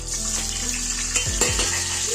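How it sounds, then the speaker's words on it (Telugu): Chopped tomato pieces sizzle and fry in a pan for a ridge gourd chutney, a steady close hiss with a couple of brief low stirring knocks partway through; no one speaks. "నెక్స్ట్ కట్ చేసి పెట్టుకున్న టమాటా ముక్కలు వేసుకోవాలి"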